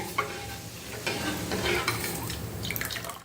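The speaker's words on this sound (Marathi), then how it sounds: "पळीच्या साह्याने हे असं हलवत राहायचं." A ladle stirs peanut curry in a pot over heat, a soft scraping and sloshing with a gentle sizzle underneath, steady and close with a few louder strokes.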